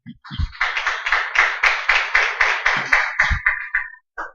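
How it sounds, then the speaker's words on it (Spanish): A church congregation claps together in a welcoming round of applause, steady rhythmic bursts of clapping lasting about four seconds before cutting off abruptly, with a few low thumps underneath. "démosle ese fuerte aplauso de bienvenida"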